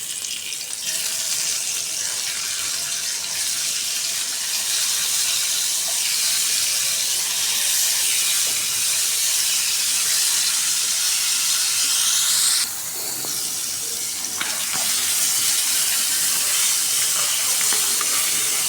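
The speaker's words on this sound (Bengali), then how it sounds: "একটু ভেজে নিতে মাছ দিবা।" Shing fish frying in hot oil in a pan produces a loud, continuous sizzling hiss that holds steady throughout, with a slight dip partway before resuming.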